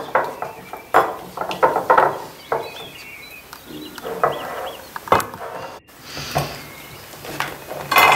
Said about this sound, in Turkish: Ve bunları güzelce karıştırıyorum.